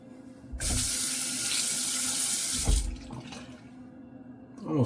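A sink tap gushes loudly for about two seconds, a steady rush of running water that then cuts off, followed by quiet handling sounds in a bathroom during a head shave.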